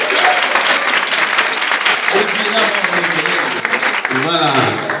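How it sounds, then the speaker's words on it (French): Scout promise ceremony crowd in a church applauding steadily and loudly throughout, with voices and shouts mixed into the dense clapping. "Applaudissez-le."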